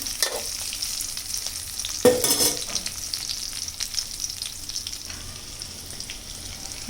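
Cauliflower florets coated in gram flour and rice flour batter deep fry in hot oil, crackling and bubbling steadily; a sudden louder burst of sizzle comes partway through, then eases back into a gentle fry.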